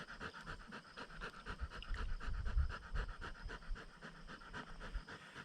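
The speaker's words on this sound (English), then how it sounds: "That isn't me panting, by the way" A dog pants rapidly and rhythmically up close, quick breathy huffs continuing steadily without pause.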